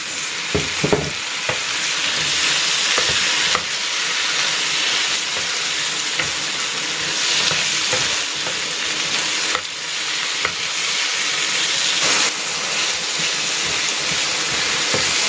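Tomatoes and pork sizzling steadily in a pan for pork binagoongan, with continuous loud frying and repeated stirring scrapes and clacks throughout, close up and without talk.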